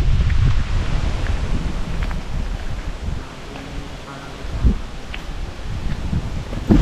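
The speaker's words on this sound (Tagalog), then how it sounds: "Grabe ang lakas ng hangin." Strong wind buffets the microphone in heavy gusts, with rustling and roaring that dips in the middle and surges again near the end.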